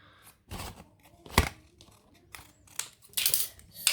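Scissors snip away the excess edges of a 6-by-6-centimetre paper square, a few short, crisp cuts spaced apart with quiet gaps between, close and fairly clear.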